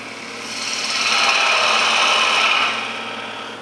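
Wooden sphere spinning on a lathe while a tool shaves material from it, a rising, scraping hiss over a low motor hum that swells, holds steady, then eases off.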